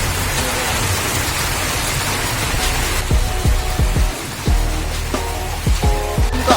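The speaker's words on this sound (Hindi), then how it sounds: "बिल्कुल बारिश चारों तरफ है।" Steady rain hisses loudly and continuously in Shimla amid jammed traffic, with some brief tonal sounds and thuds breaking through in the second half.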